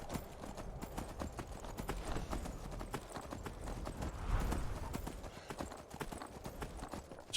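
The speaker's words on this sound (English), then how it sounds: "I know we're roughly on the road based on the sound that the horse is making." Horse hooves in Skyrim clip-clop along a road through a snowstorm, a steady, fairly quiet rhythmic plodding that continues throughout over a windy hiss.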